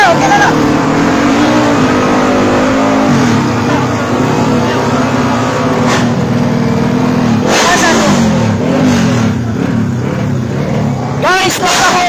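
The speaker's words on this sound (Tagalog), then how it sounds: "Magbubukasan lang ng engine." A race car engine revs loudly up close, its pitch climbing and dropping with repeated throttle blips, while excited voices shout over the roar.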